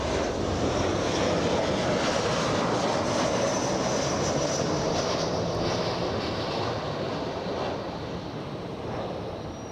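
A Southwest Boeing 737 arriving at LAX after a flight from Dallas makes a loud, broad jet roar. The sound is near and steady at first, then eases slightly as the plane passes.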